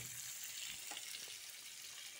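Two large chopped onions hit a hot pan with cumin for a king oyster mushroom masala, giving a faint, steady sizzling hiss throughout.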